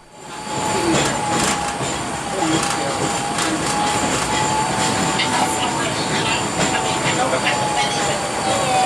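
A Portland Streetcar on the north-south line rolls along with a steady rumble and rail hiss, faint wheel squeal running throughout, heard from inside the car.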